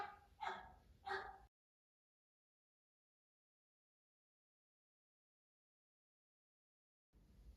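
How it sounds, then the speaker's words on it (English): The family dog gives two sharp, close barks, followed by a long silence and a brief return of sound at the very end. "what you just heard in the background is our dog barking"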